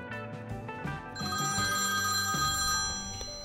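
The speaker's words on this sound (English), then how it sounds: "The phone rings." A telephone rings in an office setting, a sustained electronic ring with steady tones over some background music, at moderate volume for a few seconds.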